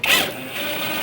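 A bolt is tightened on a 2006-2011 Chevrolet HHR front inner fender liner, giving a short close ratcheting whir that starts sharply and then fades to a quiet mechanical hum, with no talking.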